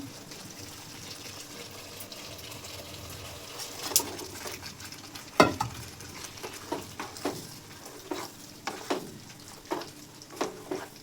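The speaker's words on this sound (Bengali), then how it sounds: "মাছগুলি ভালো করে ভুনে নিতে হবে, এরকম উল্টা পাল্টা করে নেড়ে" Fish fry in a pan with pickle spices for an achari dish, giving a low continuous sizzle broken by a series of sharp scrapes and clacks as the pieces are turned and stirred.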